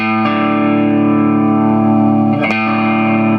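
A sustained, distorted electric guitar chord rings out of tune, restruck once near the end, with heavy effects from a Zoom G1 FOUR pedal and reverb.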